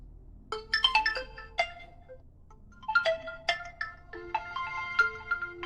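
Incoming-call ringtone from an Infinix XWatch H4 smartwatch, a bright melodic chime phrase that plays, pauses and repeats, clear and close with nothing else heard.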